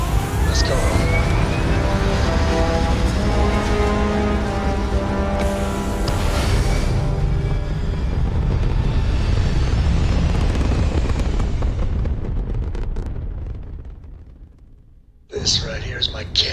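Spaceship liftoff engine in the video game Starfield, a loud sustained roar with rising tonal whine that holds steady, then fades away before a brief burst of new sound at the end.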